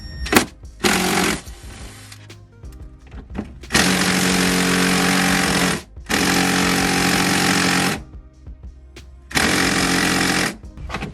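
A power driver backs out a Torx T30 screw holding a handle inside a Ford Bronco. It whirs loudly in several sustained bursts of about two seconds each, with shorter buzzes in between, and no one speaks.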